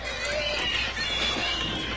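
Pigs squealing in a movie scene make a continuous, shrill, strained noise that fills the clip, with no voices over it.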